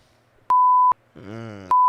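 Two sharp, loud tone bleeps cut in over a brief stretch of groaning voice, each steady beep lasting under half a second.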